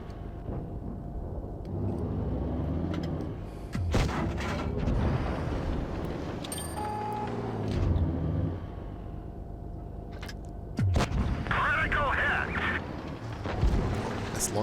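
Tank cannon fire and engine rumble in a Supremacy-mode tank battle game with a T-54, booming shots recurring amid a steady low motor drone, with someone talking over much of it.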